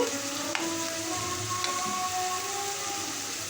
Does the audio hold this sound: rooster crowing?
no